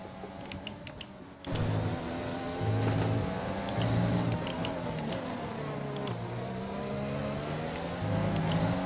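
A Formula 1 car engine in the F1 2020 racing game revs hard and steadily through shifting gears, loud and continuous, with brief ticking clicks now and then.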